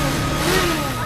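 Racing motorbike engine sound dubbed onto Splendor and Pulsar bikes: a brief, loud, continuous revving whine that rises and bends in pitch over about a second.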